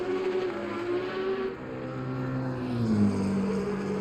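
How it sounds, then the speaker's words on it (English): A Porsche Cup race car engine in the racing game Assetto Corsa Competizione drones loudly and steadily, its pitch shifting and rising as the car closes in on a GT3 endurance race at Silverstone. "You can hear that cup car coming so far away,"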